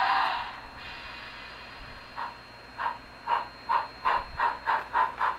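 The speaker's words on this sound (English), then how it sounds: "We got the locomotive running, which is the most important thing." A BLI Union Pacific Big Boy model steam locomotive fitted with an ESU5 sound decoder runs with a steady hiss, then a series of rhythmic chuffs that build into an even, quickening beat, heard alone and fairly close.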